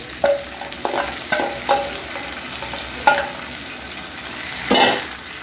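Chicken pieces hitting hot oil in a pan with browned onions, giving a steady sizzle broken by several sharp bursts of frying and stirring, close and moderately loud, with no talking.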